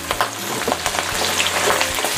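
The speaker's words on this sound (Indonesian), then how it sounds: "Minyaknya sudah panas, ini digoreng sampai matang" Chilies sizzle and crackle as they fry in hot oil for a peanut sauce, a steady close-up frying hiss dotted with small pops and the odd scrape of stirring, no voices.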